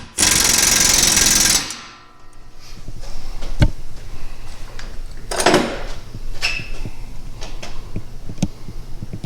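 A power tool runs in a loud, steady burst while tightening lift kit hardware on a Ford Bronco, then stops, followed by scattered clinks and knocks of tools and metal parts.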